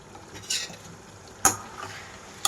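Green chillies and curry leaves going into a pan of spicy chicken fry masala, a soft steady sizzle with sharp clinks of a spoon against the pan at a few irregular moments.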